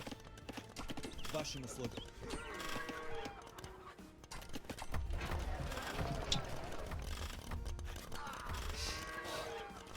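Clip-clop of horse hooves in Age of Empires II, steady and fairly loud, mixed with animal calls and other game sounds while a voice talks over it.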